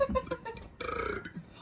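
A fake burp, loud and close, with a short belch near the start and a longer, rougher one about a second later, over quiet room background.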